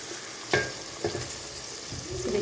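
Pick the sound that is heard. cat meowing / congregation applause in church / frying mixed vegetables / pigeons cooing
frying mixed vegetables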